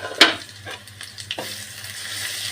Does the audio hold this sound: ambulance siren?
no